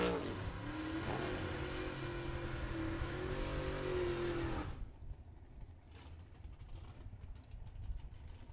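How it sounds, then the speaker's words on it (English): Two drag race cars, one a 1966 Chevelle, doing a side-by-side burnout at a sportsman drag racing event, a loud sustained engine roar with tire squeal that cuts off abruptly, leaving quieter idling and track ambience. "father and son set to burn out side by side, the Banderowitzes"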